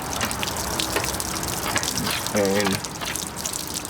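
Water rushes and sloshes inside an RV tank as a hose is worked in and out to stir up sediment, a continuous close gush with someone speaking briefly over it.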